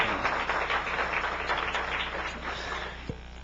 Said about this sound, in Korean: 위로와 격려의 박수를 한번